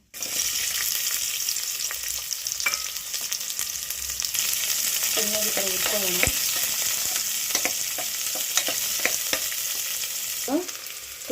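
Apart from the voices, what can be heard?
small onions frying in oil in cooker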